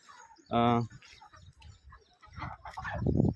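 A short, loud chicken call stands out, followed by quieter clucking and murmuring talk nearby, inside a broiler poultry farm house.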